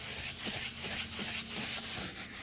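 A brush scrubs a leather car seat with rapid, rhythmic back-and-forth rubbing strokes, close and steady throughout, with no voices.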